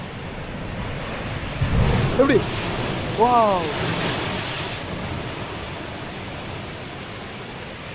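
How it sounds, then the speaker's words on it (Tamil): Ocean waves surge through a blowhole at Pancake Rocks, New Zealand, producing a broad, continuous roar with a brief swell in the middle. A person exclaims over the rushing water. "இதுவும் ப்ளோ ஹோல் தான், என்ன இது பெரிய ப்ளோ ஹோல்."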